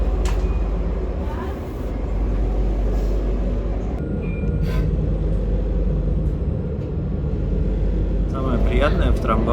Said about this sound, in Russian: Самое приятное в трамвае то, что он очень мягко едет.